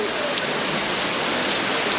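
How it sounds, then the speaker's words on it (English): Steady, dense rain pouring outside a cathedral in France, a continuous close hiss of drops hitting hard surfaces with no pauses. "we decided to get out of the rain."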